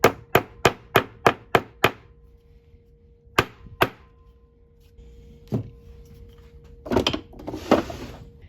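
A quick run of seven rawhide mallet strikes on sterling silver, then a few scattered knocks and handling clatter, close by with no talking.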